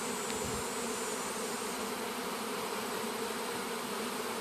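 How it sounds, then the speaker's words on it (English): Honeybees hum at an open hive at an aquaponics site, a constant thick buzzing swarm close by and fairly loud, steady throughout with no voices. "But you could reach right in here and you can put your hand by the bees."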